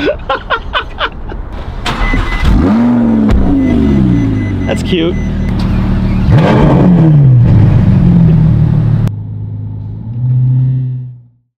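A Ferrari F12 supercar with a loud aftermarket exhaust fires up with a sharp bark, then revs in several rising and falling surges before settling into a deep idle and cutting off, close and very loud, with brief talk at the start.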